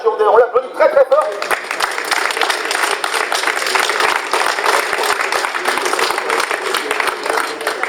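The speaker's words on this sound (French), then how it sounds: "On l'applaudit très très fort." An audience at an awards ceremony bursts into sustained, dense applause right after a short spoken introduction, the clapping staying loud and even until the end.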